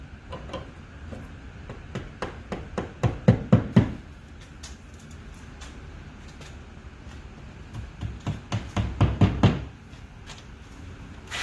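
Two bursts of rapid hammer taps driving anchors into a wall, each speeding up and growing louder, separated by a quiet pause, close by and sharp.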